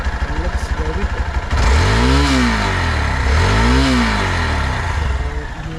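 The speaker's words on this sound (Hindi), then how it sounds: "आइडल रनिंग है अभी engine. So this is how this sounds, looks very good." A Hero Xpulse 200 motorcycle engine idles nearby with an even mechanical chug, then revs in two rising and falling swells, loud and close.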